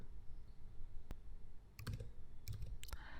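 A computer keyboard tapped in a few separate quick clusters of keystrokes while a bill number is entered in QuickBooks accounting software, with a single sharp click earlier, close and clear over a faint room hiss.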